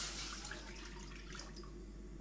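A little water poured into a pot of grain for udon noodles, a soft steady trickling wash heard close but quiet, continuing for a couple of seconds with no speech.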